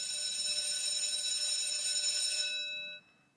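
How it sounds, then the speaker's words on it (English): A school alarm bell rings continuously with a bright, sustained metallic tone, moderately loud in a room, then cuts off and trails away near the end. "Is that the school alarm?"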